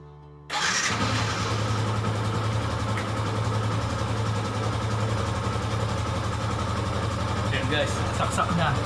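A portable motorcycle air compressor switches on just after being plugged into a power outlet, then runs with a steady, loud motor hum and buzz that carries on without a break.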